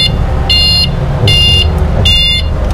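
Reverse warning beeper on a small electric bike, three evenly spaced high, harmonic beep bursts repeating over a steady low motor hum, close and loud.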